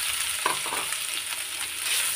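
Chopped onion, green chilli and a small diced potato fry in a pan with a continuous bright sizzle, a few soft stirring scrapes rising briefly near the start.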